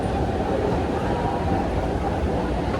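A steady, loud, broadband rumble fills the inside of a moving Delhi Metro train, an unbroken whoosh and roar with no distinct clacks or voices standing out.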